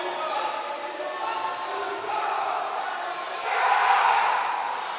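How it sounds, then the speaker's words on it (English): A student cheering section at a high school boys' swimming meet yells steadily from a distance in an echoing pool hall, swelling louder near the end while a commentator talks over it. "a nice cheering section over in lane number 3"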